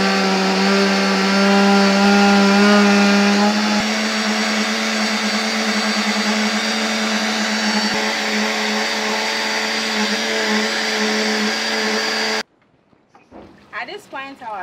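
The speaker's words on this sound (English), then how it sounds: "So let's blend it." A blender purees cooked vegetables for a village-style cocoyam fufu and smoked fish soup, with a loud steady whirring drone that holds for about twelve seconds and then cuts off abruptly, followed by brief talking.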